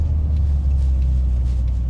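A restored 1985 Renault 5 Turbo 2 rumbles along a private road, its engine a deep, steady low drone heard from inside the car, even and unbroken with faint road noise and no talking.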